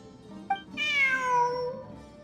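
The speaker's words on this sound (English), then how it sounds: "Look, a cat." A cat in Genshin Impact gives one clear, drawn-out meow that slides downward in pitch, close and alone, just after a small soft chirp.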